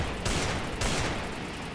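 Rapid gunfire in a shooter video game: a dense, continuous volley of loud shots with two heavier bursts, filling the whole moment without speech.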